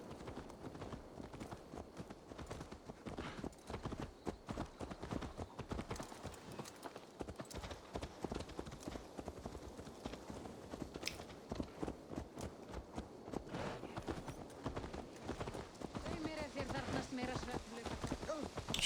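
Horse hooves clip-clop steadily in Assassin's Creed Valhalla, a dense run of hoofbeats at walking-to-trotting pace continuing over about nineteen seconds, moderately quiet, with faint voices now and then.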